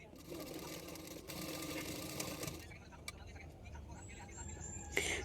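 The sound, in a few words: sewing machine stitching a blouse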